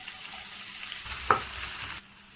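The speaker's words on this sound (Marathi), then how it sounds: "ऑइल आपलं चांगलं गरम झालं आहे। याच्यामध्ये आपण कांदा पहिले फ्राय करून घेऊया।" Onions frying in hot oil: a soft, steady sizzle close by, with a single brief stir or clink partway through before the sound drops off.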